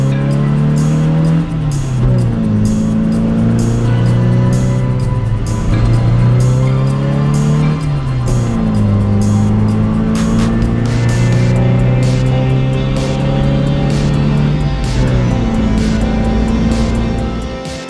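A car engine revs and accelerates loudly, its pitch climbing through several rising sweeps with drops between gear changes, steady and close with no talking throughout.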